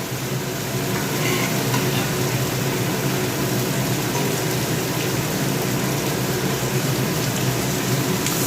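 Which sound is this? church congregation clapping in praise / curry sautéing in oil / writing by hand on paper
curry sautéing in oil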